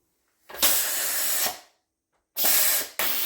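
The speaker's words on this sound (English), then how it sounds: "So because I want to get a look at it now, I'm going to let the steam out." Hot steam blasts out of an Instant Pot pressure cooker valve while chili cooks inside, in two loud hissing bursts, about a second each, with a pause of silence between them.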